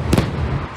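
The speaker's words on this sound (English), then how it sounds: "There's a fireworks going on at Disneyland." Fireworks at Disneyland boom in the distance, two deep muffled bursts less than a second apart over a low rumbling background.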